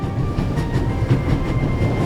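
A train races along at full speed in Raven Remastered, a loud, constant rumble of wheels and carriages with faint rhythmic clatter and a steady tonal drone, without any talking.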